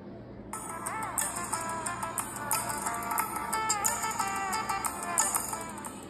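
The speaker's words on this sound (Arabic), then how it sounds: "ده كده صوت الساعة." A T500+ Apple Watch clone smartwatch sounds its ringtone, a thin, faint melodic tone repeating steadily for several seconds with no one talking.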